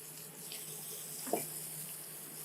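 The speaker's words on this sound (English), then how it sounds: "Add our mushrooms. We'll just saute that a bit." Mushrooms, onions and garlic sauté in a pan for hunter-style chicken cacciatore, giving a steady, even sizzle with one brief clunk of the pan midway.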